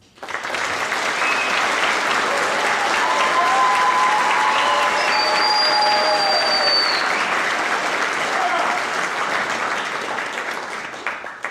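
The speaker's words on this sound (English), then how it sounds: "give my peers and myself a round of applause" A crowd at a spring health and science pinning ceremony claps for about eleven seconds, a dense, sustained applause that swells and then gradually tapers off, with a few whoops rising above it.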